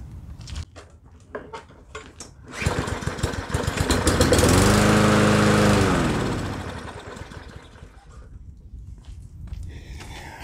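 A lawn mower engine that won't start after winter storage fires up on ether, roaring briefly and loud before sputtering and dying away, with clinks and handling noises before and after.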